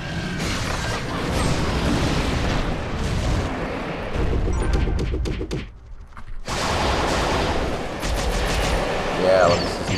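Repeated gunshots from a player firing at the Magma Drake Lavalon in the online RPG Dragon Saga, dense and loud over busy game sound effects, with a brief drop to near silence midway before the shooting resumes.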